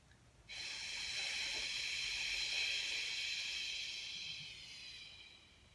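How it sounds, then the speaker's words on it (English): A strong, smooth exhale during a breathing exercise, a single long airy hiss that starts abruptly, holds steady and close for several seconds, then gradually fades. "Strong, even, smooth exhale to the end."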